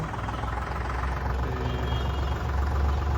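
A tractor engine drones steadily at close range as it is driven inside, with a continuous low rumble and no breaks.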